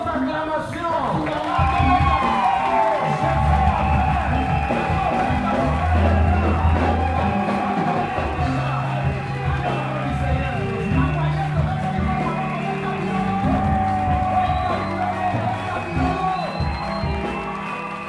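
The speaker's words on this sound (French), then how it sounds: "Aidez-moi sous nos acclamations." Church congregation cheering and acclaiming at a seminary closing service with a patriarch, steady loud crowd shouts and whoops over a constant musical backdrop throughout.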